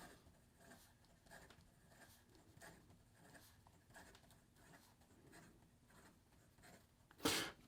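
Epitome Bespoke fountain pen scratching quickly across paper in fast, steady strokes, soft and close, ending in a brief louder scrape.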